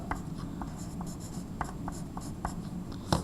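A pen writes on paper, in a run of short, distinct scratching strokes with small pauses between letters, close and fairly quiet in a still room.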